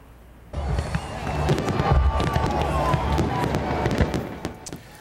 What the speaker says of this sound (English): That's a look at 4th of July fireworks over Mount Trashmore in Virginia Beach.